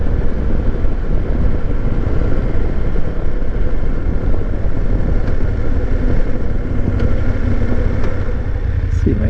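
A motorcycle ridden near Denali National Park makes a loud, steady engine and wind rumble that runs without a break. No clear slowdown stands out.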